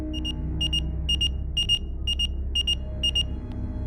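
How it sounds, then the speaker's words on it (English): A pager goes off in a room, repeating pairs of sharp high electronic beeps in a steady rhythm, about eight pairs, fairly clear over a low background hum. "my brother's beeper started beeping"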